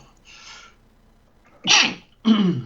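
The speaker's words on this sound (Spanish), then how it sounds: "un estornudo inoportuno" A person sneezes loudly and close during a radio news program, a soft intake of breath followed by two sharp, explosive sneeze bursts, with no talk over them.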